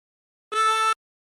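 Tremolo harmonica drawing in on hole 14: one isolated, steady, buzzy reed note lasting roughly half a second, close and clear with nothing else around it.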